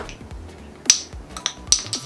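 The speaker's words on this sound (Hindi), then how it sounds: "चुटकी बजाई" Two or three sharp finger snaps close by during a coin magic trick, crisp and distinct, separated by quiet handling noises.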